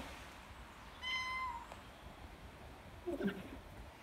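A cat in a home garage during a front brake rebuild on an Audi TT MK1 gives two fairly faint meows, one drawn out and one short, against quiet room tone.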